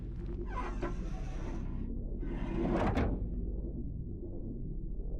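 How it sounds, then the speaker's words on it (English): In the video game Return to Grace, working a winch set in the floor opens a sliding door, giving two separate grinding, scraping rumbles over a low steady hum, with no voices. "Working the winch will open the door."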